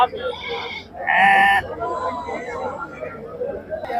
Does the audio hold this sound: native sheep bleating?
yes